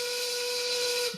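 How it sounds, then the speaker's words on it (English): A loud steam whistle blows one sustained, piercing tone rich in overtones, held steadily with a slight falloff at the end. "Nothing like an obnoxious steam whistle"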